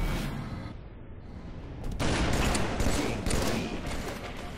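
Video game gunfire, a dense burst of rapid shots that swells after a quieter opening and stays loud and continuous with rattling bursts.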